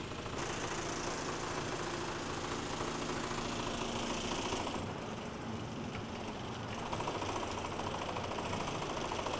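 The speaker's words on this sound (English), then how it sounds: "So that's those wheels being scrubbed" An oscillating wheel scrubber on a model railway runs with a dense, steady buzzing vibration and mechanical clatter throughout, close and even. The texture shifts briefly midway.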